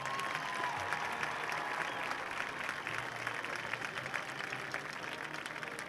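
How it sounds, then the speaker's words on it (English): Crowd applause in the stands during a ceremony at a high school football game, Bowie vs. Dripping Springs; a steady, distant-sounding wash of clapping that holds at an even, fairly quiet level for several seconds. "Please give Aiden Strange a big round of applause"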